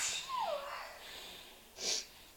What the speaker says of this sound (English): I have to sneeze though.